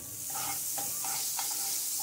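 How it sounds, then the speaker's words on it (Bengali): Butter melts in a wok with a soft, quiet sizzle, broken by a few light scrapes and taps of a utensil. "কড়াইতে আমি একটু বাটার দিয়ে দিলাম।"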